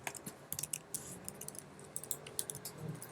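Someone types on a computer keyboard in a quiet room, with quick, irregular key clicks and occasional heavier taps coming in bursts, fairly close.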